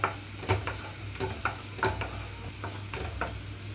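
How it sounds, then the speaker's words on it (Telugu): Garlic cloves fry on a medium flame with a steady sizzle, broken by repeated scraping clacks of stirring at irregular intervals, close and clear with no talking. "ఇక్కడ నేను మీడియం ఫ్లేమ్లో ఉంచి వెల్లుల్లి రెమ్మలు మొత్తం వేగేలాగా చూసుకుంటున్నాను"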